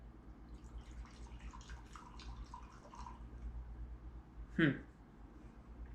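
A brief splash of Stillhouse Black Bourbon being poured into a glass, a short burst after several seconds of quiet room noise.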